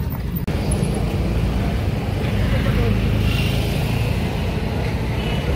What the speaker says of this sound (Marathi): गाडी येत राहते.